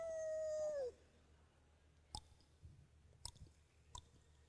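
A voice imitates a dog's howl in one short, falling wail, followed by quiet and a few sharp clicks.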